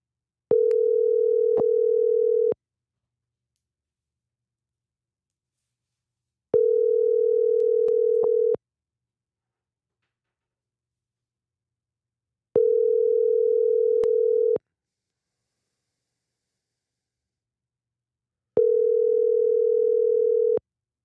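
A phone's ringback tone sounds while a call is placed, with four steady two-second rings separated by silence, clear and alone.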